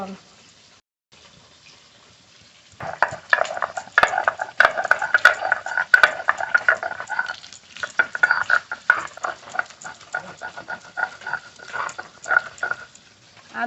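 Grass carp pieces fry in a pan, with a moderate sizzle and bursts of utensil clatter and scraping; voices are faint in the background.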